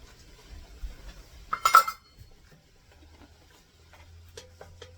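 A spoon stirs a bowl of ham and bean soup ingredients with milk, giving a brief cluster of close metallic clinks in the middle, then quiet scraping and faint taps.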